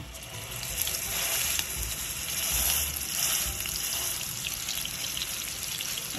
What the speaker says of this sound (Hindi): ऐसे हम फ्राई कर लेंगे।